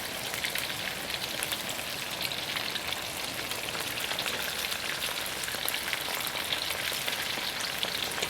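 Chicken pieces for sesame chicken fry in hot oil on a second, higher-temperature round for crispness, giving a steady, dense sizzle like heavy rain that holds evenly throughout at moderate loudness.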